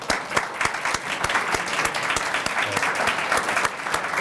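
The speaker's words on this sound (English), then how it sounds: "One more round of applause for everybody who read tonight." Audience applause for the readers at a Fall 2015 Connections Magazine reading evening: steady, dense clapping from a room full of people, holding at an even level throughout with no voices over it.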